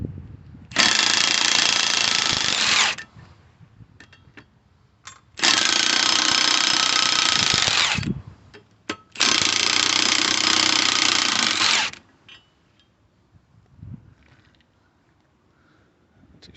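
Milwaukee impact gun removing 13mm front brake bolts on a Ford Transit MK8 at the roadside, three loud sustained bursts of rapid hammering, each a few seconds long, separated by quiet pauses and faint clanks.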